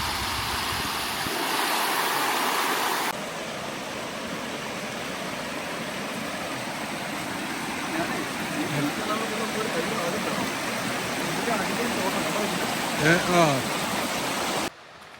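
A crystal-clear stream in an Australian forest rushes steadily and continuously close by, with a voice talking over it now and then.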